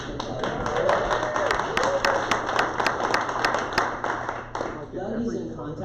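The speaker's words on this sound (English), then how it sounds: "Can I get like some applause for Doug Ma and all of his work for the club?" A meeting audience at a Rotary club gathering breaks into scattered applause, sharp claps spread across the room and holding steady for several seconds before tapering off.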